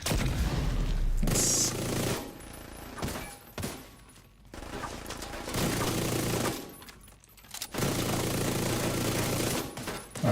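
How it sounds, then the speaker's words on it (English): Rapid bursts of automatic gunfire from The Division video game, loud and close, with several sustained volleys broken by short pauses and no talking over them. "I'm shooting it in the wrong place."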